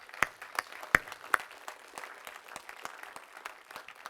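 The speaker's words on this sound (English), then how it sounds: "Let's give a big round of applause for all the volunteers who made this possible" Light, sparse applause from a small audience at a tech meetup, thanking volunteers, with scattered individual claps standing out against a soft background patter, fairly quiet and distant.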